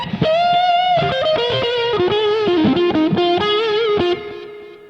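Electric guitar run through delay and spring reverb, playing a sustained melodic line with echoing repeats and a wash of reverb tail, loud and close, ending with a brief fading decay.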